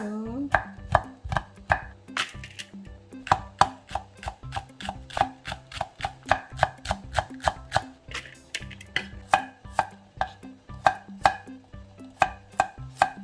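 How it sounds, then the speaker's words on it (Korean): A knife thinly slices vegetables quickly and steadily on a cutting board, dozens of crisp, close taps in an even rhythm with brief pauses. "다지지는 말고 그냥 얇게만 썰어주세요"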